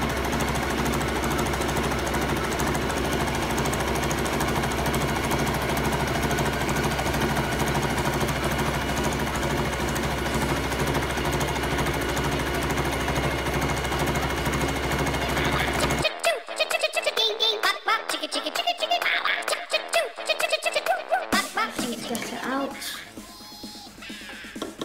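A sewing machine stitches fabric bunting at full speed with a loud, rapid, continuous chatter. After about sixteen seconds it stops, and quieter handling sounds follow.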